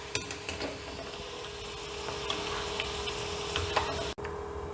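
Fried chicken pakora is lifted from hot oil with a slotted spoon: a continuous loud frying hiss under scattered light metallic ticks and scrapes, ending in a brief clunk.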